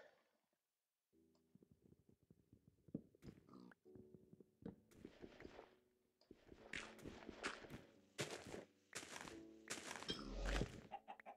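Repeated clucking of Minecraft-style video game chickens and clicky footstep-like sounds over a low game tone, growing busier and louder toward the end, after a brief silence.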